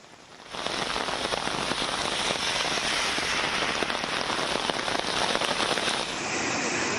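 Heavy rain pours down during a downpour in Bengaluru, Karnataka, as a dense, steady, loud hiss of drops on surfaces that starts abruptly and holds for several seconds.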